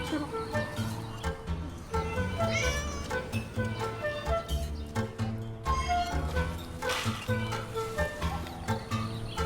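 Cats living free in a public park in a Chinese city, meowing repeatedly over a dense, steady tonal background with no clear speech.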